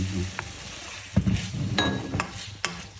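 Fresh shrimp with wild garlic greens cooks in a pan, giving a steady sizzle broken by a few clinks and scrapes of a utensil against the metal, close and fairly loud, with no voices.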